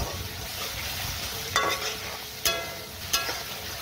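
Spice paste with sour yogurt for rui fish kaliya fries with a steady low sizzle in the pan. About three sharp scrapes of a stirring utensil cut through it at uneven intervals, with no voices.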